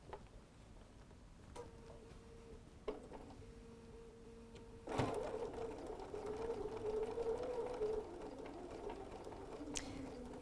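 A sewing machine runs along the side of a folded star hot pad, starting and stopping in short bursts before a longer continuous run of stitching, steady and close with faint clicks at the ends.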